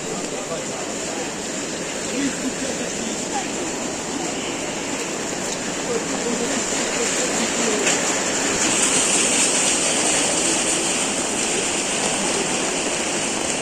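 Heavy downpour at an outdoor market, a loud, dense, continuous roar of rain hitting surfaces close by, swelling slightly stronger toward the end, with someone talking over it.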